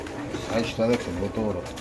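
Pigeons coo at a pigeon farm in a few low rhythmic calls, close, while someone talks over them.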